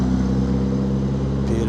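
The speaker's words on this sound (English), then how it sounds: "pretty spectacular thing that's going to leave now. The RS Cosworth." A Ford RS Cosworth pulls away at a car meet, its engine a steady, fairly loud mid-pitched drone that holds for the whole moment without pause.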